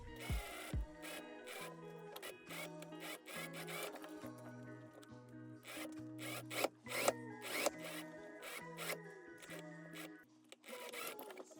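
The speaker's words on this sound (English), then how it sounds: "now let's sew both hem facings and back neck facing on" A sewing machine stitches hem facings and a back neck facing onto a jacket in short bursts of close, whirring stitching separated by brief pauses, with no talking.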